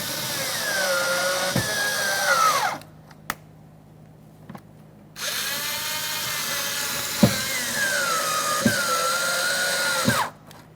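A power tool spins mounting bolts into a Toyota Corolla rear door in two long whirring runs, its pitch shifting as each bolt tightens, with a quiet pause and sharp clicks between them.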